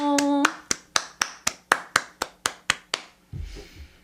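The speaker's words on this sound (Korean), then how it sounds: "박수로 맞아주세요." Audience applause greeting an arriving guest artist on a talk show: a run of about fourteen sharp, evenly spaced claps, loud and close, after a brief tone, ending in a soft thud.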